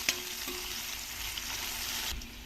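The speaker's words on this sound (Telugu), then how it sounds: "ఈ ఉల్లిపాయ ముక్క బాగా వేయించుకోవాలి" Onion pieces fry in a hot pan for a ridge gourd curry, giving a steady, close, even sizzle throughout with a faint clink near the start and no talking.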